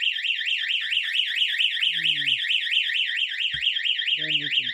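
A Wyze home alarm system siren sounds during a test, a loud, rapidly warbling electronic tone that cycles up and down continuously, while brief low voices and a short knock come through underneath.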